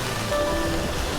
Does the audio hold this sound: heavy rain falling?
yes